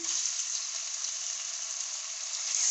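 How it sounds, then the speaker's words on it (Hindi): Garlic and ginger fry in a pan with a bright, continuous hiss of sizzling oil, close and even, swelling slightly louder at the end with no voices. "लहसुन अदरक फ्राई हो चुका है"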